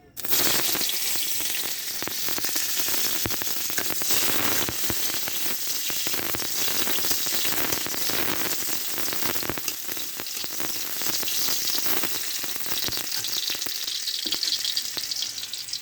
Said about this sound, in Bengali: কড়াইতে তেল দিয়েছি, এই যে পেঁয়াজ কুচি দিয়ে দেবো,